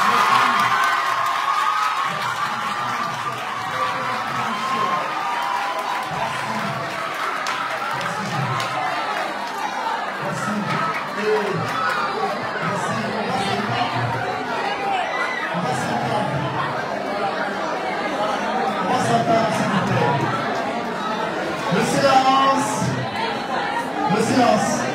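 Debate hall audience cheering, whooping and chattering in a continuous crowd roar, with shouts rising near the end.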